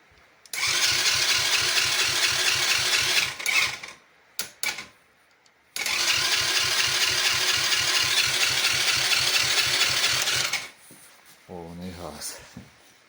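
A 125cc ATV engine is cranked over with the throttle open during a compression test. Two long bursts of rhythmic chugging are separated by a brief stop, and a voice speaks briefly at the end.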